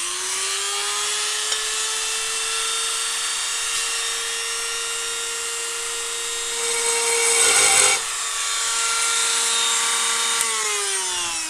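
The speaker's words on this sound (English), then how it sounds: "Now I just drilled a little hole there" A diamond drill bores a hole through a resin panel, giving a steady, close, high-pitched whine that holds for the whole stretch, grows rougher and louder near the end as the bit bites, then settles back.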